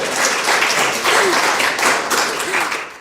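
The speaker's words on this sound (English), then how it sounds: "A big round of applause." Audience applause for a quiz contestant at a live event, dense steady clapping with a faint voice briefly rising through it before the clapping tapers off.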